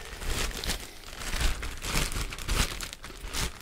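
Plastic bag inside a retro video game box crinkles and rustles continuously as it is handled, in irregular crackling bursts close to the microphone.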